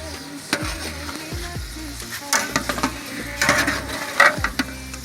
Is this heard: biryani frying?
yes